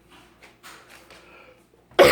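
A single loud, abrupt cough bursts out at the very end, after a stretch of faint, quiet murmuring sounds.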